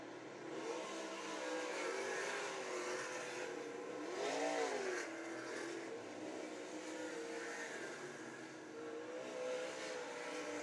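A number 18 race car revs hard on a short track during a live race broadcast, its engine rising and falling in pitch through the corners, loud and continuous with other cars droning behind.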